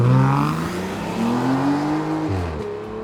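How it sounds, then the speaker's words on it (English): A car drives fast, its engine revving up through rising pitch before a gear change drops the tone, loud and close with steady road rumble. "I'm gonna drive really, really fast here so you can see."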